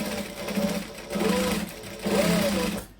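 A sewing machine back stitching on a Camille camera bag, three short bursts of buzzing stitching with brief pauses between, close and clear.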